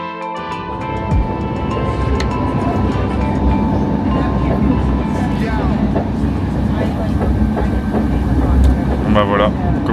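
Inside a moving RER B commuter train in Paris, a loud continuous rumble mixes with rhythmic rail clatter, while murmured voices of passengers are heard underneath.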